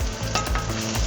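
Rice grains toasting with garlic in a pot, sizzling steadily with a few scraping stir strokes, close and continuous for about a second with no voices.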